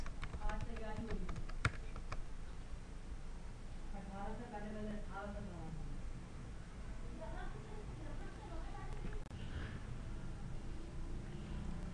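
Typing on a computer keyboard while writing C# code, a light run of clicking keystrokes beneath a woman's steady explanatory speech throughout.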